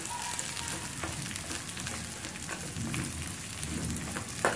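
Shallots and dried chillies fry in a pan at a village kitchen, a steady dense crackle and sizzle like light rain continuing throughout, close and moderately loud, with no talking.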